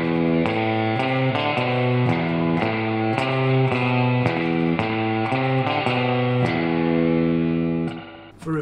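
Electric guitar playing the main riff of a song, with light reverb and slapback echo, a steady repeating melodic pattern heard alone and loud throughout before fading at the end.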